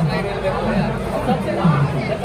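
Dense crowd babble fills a railway station platform where passengers wait for the Bihar Sampark Kranti Express, a steady wall of overlapping chatter at close range with no single clear voice.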